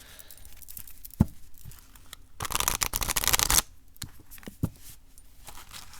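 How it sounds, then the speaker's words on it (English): A brand-new, somewhat stiff oracle card deck is shuffled by hand. A short crisp riffling burst sounds in the middle, set apart by a few soft taps and handling noises in a quiet room. "Let's just shuffle, see how they shuffle, and then I'll lay them out."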